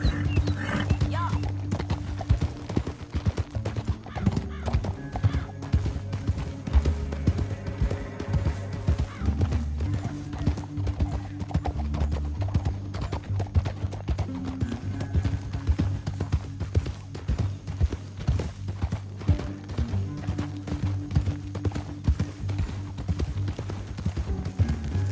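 Horse hooves clip-clop in a steady galloping rhythm throughout a Red Dead Redemption 2 game scene, moderately loud, over low background music and occasional faint voices.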